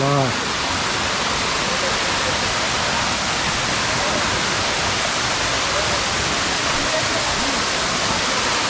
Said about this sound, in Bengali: কত উপর থেকে পানি পড়তেছে